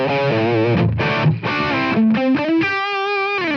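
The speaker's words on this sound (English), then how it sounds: "you're basically hearing the raw tone model from TONEX ONE right now" An electric guitar played through a raw TONEX ONE amp tone model, with no compression, reverb or noise gate, rings out in loud, distorted sustained notes and chords that shift pitch, ending on a long held chord.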